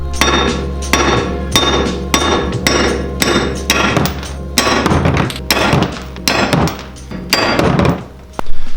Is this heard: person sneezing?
no